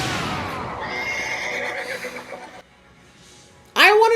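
A horse whinnies loudly and shrilly near the end, following a stretch of other sounds and a brief near-silence; the neigh is close and alone.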